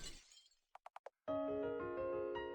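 A faint glass-like shatter marks an illusion breaking into pieces. A few quick, delicate taps come first, then a sudden crash rings out into lingering, chiming tones that sustain to the end.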